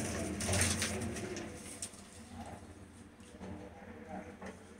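Seven pigeons, three hens and four cocks, kept by a pigeon fancier make soft low cooing calls at close range. The cooing is scattered against a rustling outdoor background, with a louder stretch early on.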